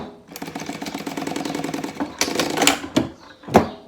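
A sewing machine runs a steady, rapid stitching rhythm while topstitching synthetic leather for a binder, followed by a few sharp separate clacks near the end; no one speaks.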